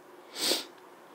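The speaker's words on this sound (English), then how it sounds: "okay I'm gonna sneeze" A single short, breathy sneeze bursts out close by, rising and fading within half a second against quiet background.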